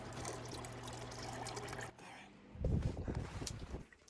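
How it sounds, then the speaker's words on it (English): Water poured off seedling trays under indoor grow lights, a steady trickle for about two seconds, then a louder splashing, dribbling pour up close. "I'll pour some of these off."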